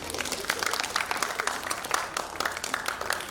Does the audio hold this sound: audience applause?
yes